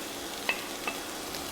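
Steady crackling sizzle of onions frying in olive oil, with a couple of brief utensil clinks over the hiss.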